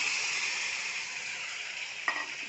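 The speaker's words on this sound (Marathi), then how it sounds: "कुकरमध्ये शिजून घेतलेली ही डाळ टाकू" Pressure-cooked moong dal goes into a pan with potatoes, giving a soft, steady sizzle broken by a single brief clink near the end.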